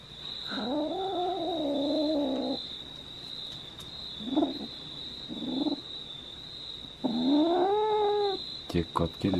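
Cats meow and caterwaul in long, rising and falling wails, with two extended howls and a few shorter cries in between, close by over a steady high electronic whine, with human voices nearby.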